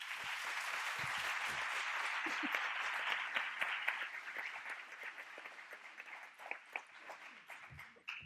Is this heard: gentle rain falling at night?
no